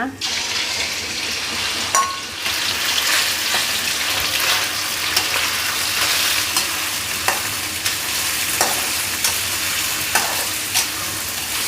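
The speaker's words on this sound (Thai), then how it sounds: "น้ำมันประมาณ 7 ช้อนโต๊ะอะค่ะ ตอนนี้เราใช้ไฟแรงนะคะ รอให้น้ำมันเดือดค่ะ ขยับมาอ่อนนิดนึงค่ะ ค่ะเราจะเอาหมูลงเลยนะคะ" Marinated pork with garlic and pepper fries in about seven tablespoons of hot oil, a loud, steady sizzle broken by scattered sharp clinks of a utensil against the pan, heard close up.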